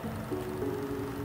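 Nexus 2 synth's LD Chillin' House Lounge lead preset playing in FL Studio: a brief, soft, sustained electronic tone that steps up in pitch partway through and holds, heard alone with no voices.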